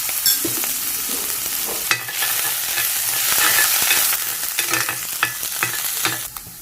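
Chopped garlic and a small piece of ginger sauté in a hot pan for chilli chicken, giving a steady close sizzle with scraping stir strokes and occasional sharper clicks of the utensil against the pan.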